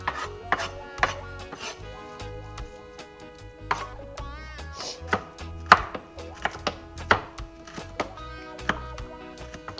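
Garlic cloves and onions chopped with a knife on a cutting board for a steak sandwich, a steady run of close, crisp blade knocks in irregular rhythm over a faint musical bed, with no talking.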